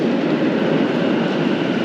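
Metro train in Almaty rumbling steadily through an underground station, a loud, continuous low roar with no break and no voices.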